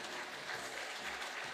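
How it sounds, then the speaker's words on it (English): An audience at a beauty pageant applauding, a faint, even patter of clapping over a short stretch. "How about a round of applause?"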